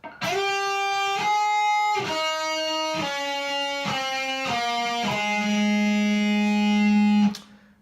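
A distorted electric guitar plays a riff of sustained notes, each struck clearly in turn with short gaps, ending on a long held note that cuts off.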